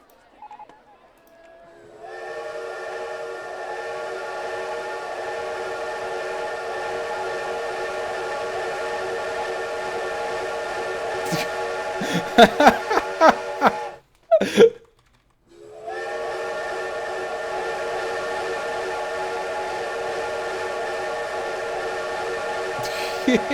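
A steam train whistle in a theme-park building video game sounds in a long, steady harmonic blast. The blast is broken by clicks and a brief gap, then continues just as loud.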